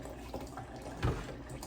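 Filtered water is poured for pickling brine, a soft, faint trickle and splash with one brief stronger gurgle midway and no talking.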